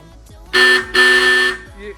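Two loud, close blasts from a car horn fitted to a car with scissor doors, the second held longer, with a brief pause between them.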